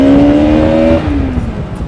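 Loud, close engine whine rising then dropping in pitch as a motorcycle accelerates hard at full power on a highway ride, with steady rushing road and wind noise underneath.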